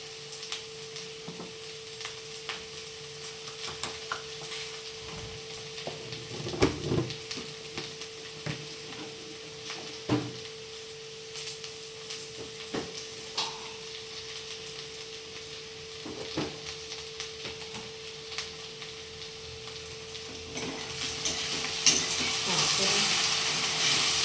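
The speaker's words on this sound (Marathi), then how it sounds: "आपली सगळे मसाले वापरून घेतलेले आहे आपण आता भेंडी शिजू देऊ" Okra (bhindi) cooking in a pan with spices, a soft continuous sizzle with occasional scraping stirs and clicks of a utensil, a steady hum underneath, and a louder hiss swelling near the end.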